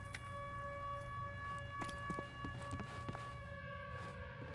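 Civil defense sirens wail steadily in a video game, sustained tones holding across the whole stretch with a few faint footstep-like thumps underneath and no talking.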